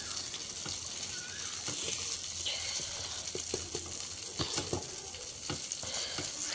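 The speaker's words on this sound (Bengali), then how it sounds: "আমি এইগুলা ভেজে নেব পেঁয়াজ দিয়ে" Onions fry in a pan with a continuous bright sizzle, broken by occasional scrapes and taps as the food is stirred, close and steady throughout.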